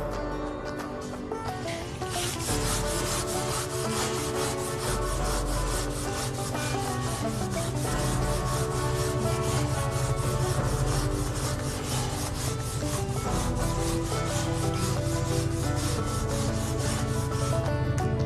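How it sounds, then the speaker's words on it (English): A pad scrubs an oxidized stain on a hardwood floor, producing a loud, continuous abrasive rubbing with a rapid back-and-forth rhythm that runs throughout, close up and with no talking. "we're going to start scrubbing to see if I can get most of this off"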